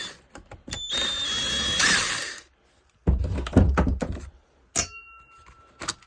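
A power driver backing out T27 star screws from a STIHL KM110R trimmer: several short whirring bursts separated by pauses, with metallic clinks and thunks of the screws and tool nearby, no talking.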